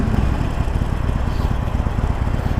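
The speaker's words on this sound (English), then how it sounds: "Stock exhaust sounds actually not too fucking bad on this thing." A 2019 Harley-Davidson Iron 1200 Sportster with stock exhaust idles steadily up close, a deep, even low rumble with a fast pulsing throb and no voices.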